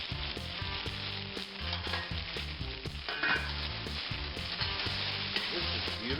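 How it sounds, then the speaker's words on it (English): Onions frying in oil in a hot pan for beef burgundy, a steady, dense sizzle with crackle running throughout, close and fairly loud, with a low rhythmic hum beneath. "I'm going to add just a little bit more oil. And get those onions started."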